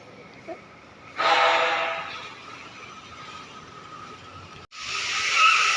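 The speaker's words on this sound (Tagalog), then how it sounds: "Ah, lakas ang preno, full stop oh." A golf cart braking hard to a full stop, giving a loud sustained skid-like screech of about three and a half seconds that fades, cuts off, then returns loudly.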